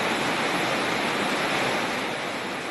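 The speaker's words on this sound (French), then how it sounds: "la cascade Tinasrin coule à longueur d'année" The Tinasrin waterfall in a village near Tizi Ouzou rushes in a constant, loud broadband roar of falling water, close and unbroken throughout with no voices.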